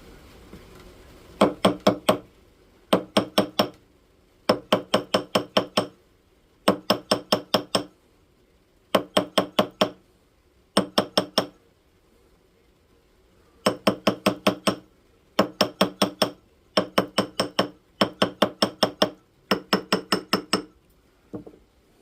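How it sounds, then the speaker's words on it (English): A ball peen hammer taps metal sizing stock to straighten it, striking in quick bursts of four to six sharp ringing blows separated by short pauses, repeated about a dozen times, close and clear. "we're going to start with our ball peen hammer because that piece needs to be kind of straightened out."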